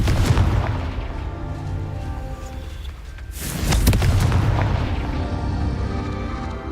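Confringo blasting spell explosions in Hogwarts Legacy, deep booming blasts with a loud rumbling burst near the middle, close and dominating, with no speech over them.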